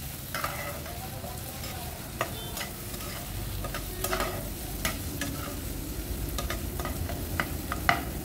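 Vegetable Maggi noodles with chopped capsicum and paneer sizzle in a pan as a spoon stirs them, sending out steady frying hiss and scattered clinks and scrapes.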